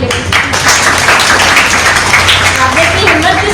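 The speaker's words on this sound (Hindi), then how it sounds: "तो तालियां आपके लिए" Loud, sustained audience applause at a forum on women's mental health and environmental factors, a dense, steady wash of clapping with a voice speaking over it.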